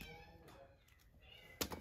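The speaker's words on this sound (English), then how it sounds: "There's this cat that's outside that thinks she belongs to us." A cat outdoors meows faintly at a distance, with a couple of soft, drawn-out calls against quiet background noise.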